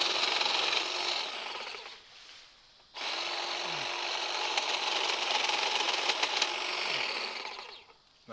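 A Dewalt 20V MAX cordless hedge trimmer buzzes steadily while cutting small branches, close and loud, pausing once briefly before resuming with a few woody snaps.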